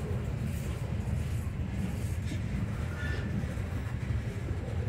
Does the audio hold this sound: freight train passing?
yes